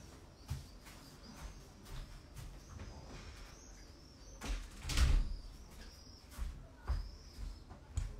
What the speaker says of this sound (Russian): сейчас я дверь закрою